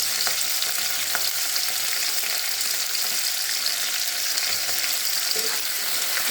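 Sliced onion fries lightly in oil in a pan, giving an even, continuous sizzle at moderate loudness with a few faint stirring clicks and no talking.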